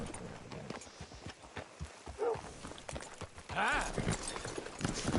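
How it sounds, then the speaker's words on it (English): Horse hooves clip-clopping in Red Dead Redemption 2, a steady walking rhythm of hoof beats on the ground, heard close under in-game voices and background sounds. "Hitch your horse up here."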